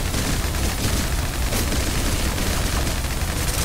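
Dense, continuous gunfire from a character's weapon in the shooter game Snowbreak, loud and unbroken blasts that blur together for several seconds with no pauses.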